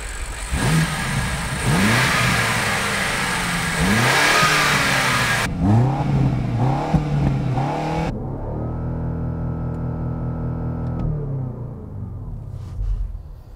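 A BMW X5 M Competition's V8 engine revs repeatedly in sharp rising bursts, loud and close, then drops to a lower, steadier rumble and settles toward idle, with no talking.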